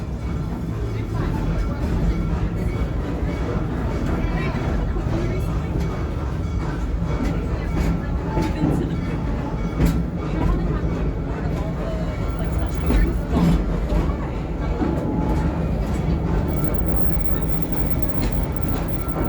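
The Serengeti Express train at Busch Gardens Tampa rumbles and clatters continuously, heard from on board as a loud, steady roar with occasional rattles, with a voice speaking over it.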